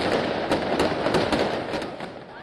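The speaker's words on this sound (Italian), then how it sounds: "sono i fuochi d'artificio" Fireworks over Piazza dei Miracoli in Pisa at night during the Luminara festival, a dense rumbling burst of booms and crackles mixed with distant crowd noise.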